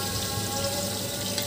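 Chicken meat added to a pot of biryani masala gives a steady, even sizzling hiss that carries at low level through the whole moment, with no voices.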